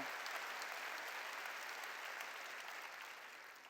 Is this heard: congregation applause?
yes